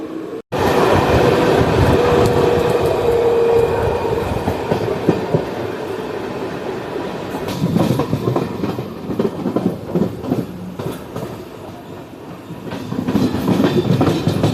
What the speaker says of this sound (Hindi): तो ट्रेन का अराइवल हो रहा है रूपनगर स्टेशन पर।